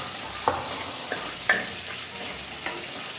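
Curry leaves, garlic and onion frying in a clay pot, a faint steady sizzle broken by a few soft stirring clacks, with no talk.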